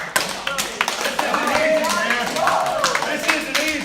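A wrestling team cheers and claps for its wrestlers, with steady scattered hand claps and taps, shouts and voices running under the noise at fairly close range throughout.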